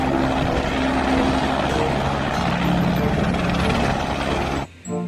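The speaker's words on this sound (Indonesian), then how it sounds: "Ada helikopter warna kuning." A toy helicopter gives off a loud, steady whirring and buzzing drone, close and continuous for several seconds before it stops suddenly, with a brief faint noise after.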